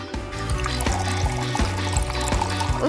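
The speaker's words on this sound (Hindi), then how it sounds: "इसमें पानी डालते हैं।" Water poured into a cooking pot during a kitchen cooking challenge, a steady splashing pour running for about three seconds, close and fairly loud, with no talking.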